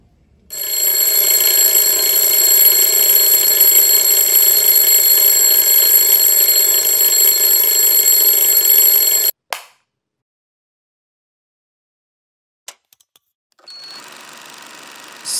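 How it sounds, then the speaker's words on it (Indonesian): An alarm rings loudly and steadily for about nine seconds, then cuts off into silence; a few faint clicks follow before a quieter hiss-like sound returns near the end. "Alarm telah berbunyi, tandanya untuk bangun."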